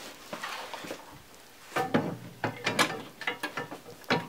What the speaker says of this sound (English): So now we can adjust the input hopper on the exact side of the size of the cards.